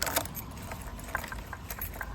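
A small bunch of motorcycle keys on a Honda Grom jangling and clinking in short bursts, close by and fairly quiet, with no voices.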